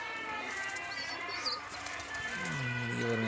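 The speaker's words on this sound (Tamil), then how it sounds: "புறாவோட எல்லாத்தோட மேய போயிட்டு ரிட்டன் வந்துடுச்சு" Pigeons coo at a home loft, soft throaty calls over a low background hum with a faint flutter, the cooing growing clearer and nearer toward the end.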